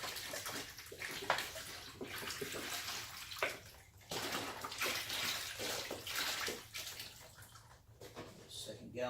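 Water pours steadily into the cooling tank of a 60-watt CO2 laser setup, a continuous close gushing and splashing with a few brief dips in flow.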